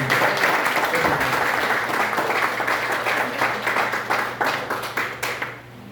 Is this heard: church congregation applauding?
yes